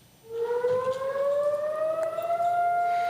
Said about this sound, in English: Sirens blared across the country for 2 minutes.